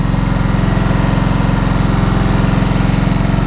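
A 2003 Kawasaki Vulcan VN1600 Classic motorcycle that sat outside for a while idles with a steady, loud, close-up rattly thrum, an even pulsing beat that carries unbroken with no one talking.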